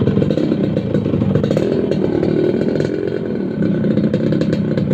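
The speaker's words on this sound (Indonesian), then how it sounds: "Jadi Mas Cebong ini, motor ini bisa dihidupin Mas." A 1992 Yamaha RX King motorcycle with a brass air filter idles nearby, its two-stroke engine putting out a loud, steady, rattly putter with fast regular pulses and no talk over it.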